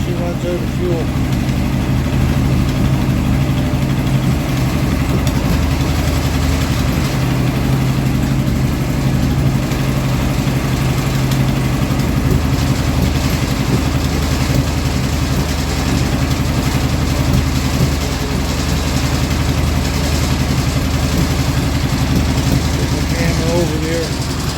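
Royal Enfield Interceptor motorcycle idling steadily and loudly close by, a continuous low putter with an even rumble that holds for the whole stretch as it runs on until the fuel is gone.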